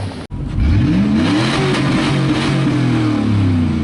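An old truck engine with over 325,000 miles revving up from idle, a loud close rising growl that climbs and holds at high revs, then eases slightly, with a brief click at the start and no talking.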